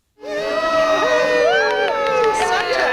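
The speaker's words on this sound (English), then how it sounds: "Cheers and applause as the Santa sleigh turns into Abbot Spartan" A crowd cheers and whoops as Santa's Christmas sleigh turns into Abbot Spartan in Winchester, with excited children shouting; a loud, continuous burst of shrill voices rises suddenly and stays dense throughout.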